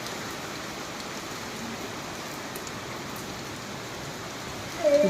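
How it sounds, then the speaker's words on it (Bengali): Steady rain falls in an open field near a jackfruit tree by the sea, a dense even hiss of drops on surfaces from start to finish, with a slight swell in loudness at the very end. "বৃষ্টি শুরু হয়ে গেছে।"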